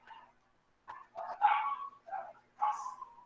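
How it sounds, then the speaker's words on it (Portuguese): Several dogs bark and yip outdoors in short irregular bursts, moderately distant, with a faint whimper-like note between barks and no one speaking. "Começou os cachorros."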